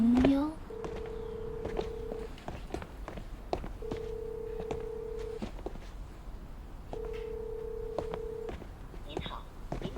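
A telephone call is dialed and meets a busy line. A click opens it, then three long, evenly spaced busy-signal tones sound in a steady pulse over faint background hiss.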